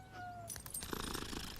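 A cartoon cat from King of the Hill gives a short meow, near and faint, followed by brief rustling noises.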